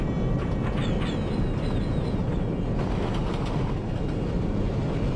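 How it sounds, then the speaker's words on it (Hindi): A freight train hauled by a WAG-9H electric locomotive rushes past at full speed in the Open Rails train simulator, a loud continuous roar of wheels and wagons with faint rhythmic clatter throughout. "सामने से एक फ्राइट ट्रेन यहाँ पे आ रही है, इसमें वैगन 9H लोकोमोटिव लगा हुआ है और ये एक फ्राइट ट्रेन है"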